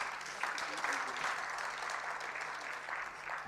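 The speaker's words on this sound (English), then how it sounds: "Let's please give him another round of applause." Audience applause at a budget review dinner, a steady wash of clapping from a seated crowd throughout, moderately loud with faint voices mixed in.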